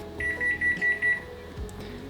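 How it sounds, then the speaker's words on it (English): Oven beeping when preheated: five short, evenly spaced electronic beeps, fairly loud and close, over faint kitchen background noise. "That's the sound of our oven preheated."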